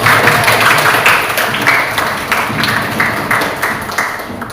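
Audience applause at a classroom teaching presentation, a brisk burst of many hands clapping that stays loud and fairly even before gradually thinning, with no speech over it.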